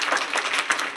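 Brief burst of dense audience applause welcoming event organisers at a community birthday commemoration, steady and moderately loud throughout.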